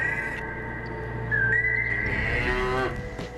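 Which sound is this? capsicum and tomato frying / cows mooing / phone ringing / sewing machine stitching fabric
cows mooing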